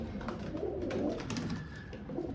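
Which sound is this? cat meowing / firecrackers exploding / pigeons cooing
pigeons cooing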